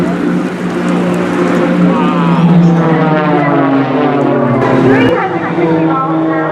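Propeller race planes flying at full speed in a crossfire race at a seaside air show, a loud sustained engine drone rising and shifting in pitch, with a commentator talking over it.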